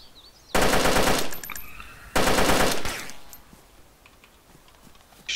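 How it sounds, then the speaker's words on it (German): Automatic gunfire in the video game DayZ: two loud, close bursts of rapid shots, the second trailing off, followed by quieter scattered clicks and a faint hiss. "Ich schieße."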